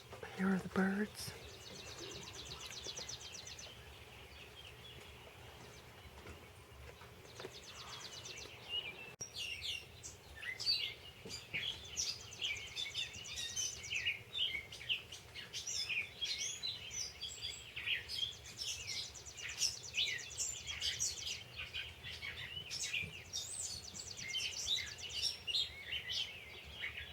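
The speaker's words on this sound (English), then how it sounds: "Here are the birds." Many birds sing and chirp at sunrise on an overcast Sunday morning, a steady chorus of overlapping high calls filling the whole stretch at moderate distance, with a few low stray sounds early on.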